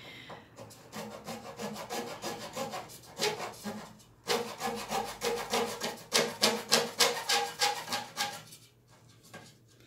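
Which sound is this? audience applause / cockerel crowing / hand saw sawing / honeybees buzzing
hand saw sawing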